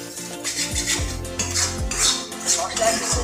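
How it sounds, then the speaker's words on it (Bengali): A metal spatula clanks and scrapes rhythmically against a pan as chopped coriander is fried and stirred with spices for chital fish curry. The close, repeated stirring knocks sit over only a faint sizzle. "এটাকেও খুব ভালো করে মশলার সাথে আমি ভেজে নিই।"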